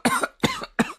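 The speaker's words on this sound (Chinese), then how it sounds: "他被呛得连连咳嗽" Coughing after choking on bitter medicine powder: three harsh, close coughs in quick succession, each a sharp burst that trails off, with no talking.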